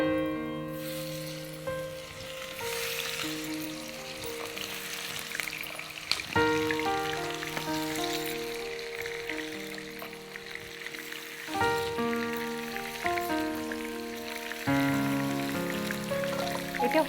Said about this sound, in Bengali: লবণ আর হলুদ মাখিয়ে আমি এটা তেলে ছাড়বো।